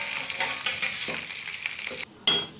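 Chana dal kofta sizzling steadily in hot oil, a bright close frying hiss with stirring clinks and scrapes, cut by a brief pause before the sizzle returns.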